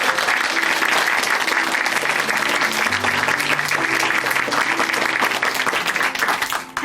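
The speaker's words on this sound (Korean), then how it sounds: "다시 한번 박수 보내드릴게요" A church congregation in Chuncheon applauds after a testimony, a loud, steady wash of clapping that fills the room and holds without a break until it tapers at the very end.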